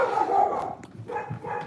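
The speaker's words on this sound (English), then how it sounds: "that's my dog." A dog barks and yips in short bursts close by indoors, loud and alone.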